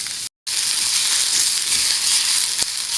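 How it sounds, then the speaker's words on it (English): Shallots searing in a hot pan brushed with a little oil give a loud, steady, close hiss of sizzling, broken by a brief dropout near the start, with no talking. "And I can see these are starting to sear."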